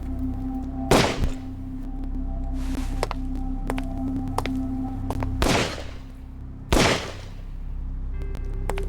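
Gunshots in Yakuza 4 Remastered ring out as a few sharp, loud cracks spaced irregularly over a low game hum, with no talking.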